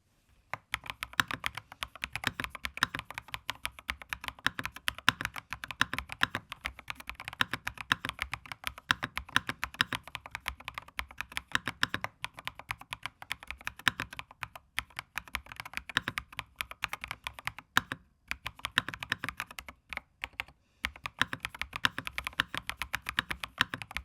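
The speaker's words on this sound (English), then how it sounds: "Now I'm going to mic the keyboard up and do a sound test." Rapid, continuous clacking of a Redragon Wyvern K689 Pro mechanical gaming keyboard's keys, up close, with brief pauses between bursts of typing and no voices.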